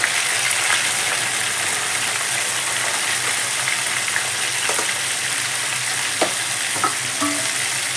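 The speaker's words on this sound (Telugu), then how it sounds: "ఈ విధంగా కార్న్ మొత్తం మనము ఆయిల్లో డీప్ ఫ్రై చేసుకోవాలి" Corn kernels deep frying in hot oil for restaurant-style crispy corn, giving a loud, steady, close sizzle with occasional small pops and no talking.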